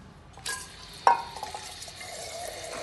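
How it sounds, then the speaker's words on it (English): Air and water spurt from the small filter purge tube of a SAB machine, a sputtering burst starting sharply then continuing as a lighter hissing spray, close and fairly quiet. "Air and water will start to come out of this little tube."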